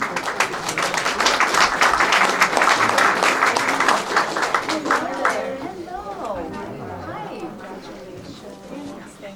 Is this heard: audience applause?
yes